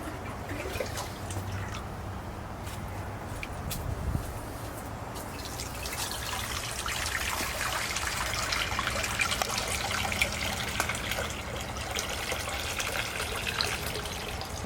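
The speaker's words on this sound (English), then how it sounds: "You can lift the lid and pick up the water pitcher, and then just fill the bowl with water." Water pours from a pitcher into a wash bowl in a steady, soft trickle that grows a little fuller partway through. It plays alone at low volume, with no voices.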